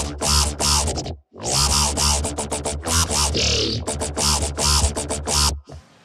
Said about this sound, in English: Gives a little bit of metallic feel to the sound.